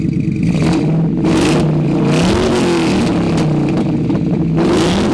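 A loud supercharged Ford SVT Lightning F-150 pickup engine revving up and down with a rising supercharger whine, close by and continuous, with no voices.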